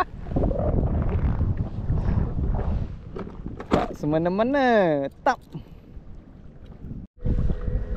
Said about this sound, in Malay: Guys, angin padu angin ni.